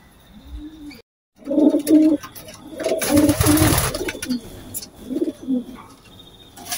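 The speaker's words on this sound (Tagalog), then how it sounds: "Nandito ako ngayon sa sa kulungan ng mga kalapati ko." Pigeons coo in their loft, giving several soft, throaty, rhythmic calls at close range. Each call is separated by short pauses, with faint chirps and a little background noise between them.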